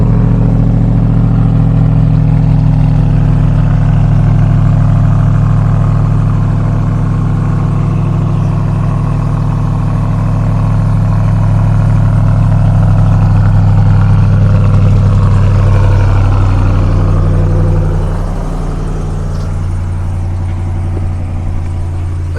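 A 2021 Ram TRX pickup with a 702-horsepower engine and a stock, untouched exhaust rumbles loudly and close by, a deep, steady drone that swells and eases slightly before settling lower near the end.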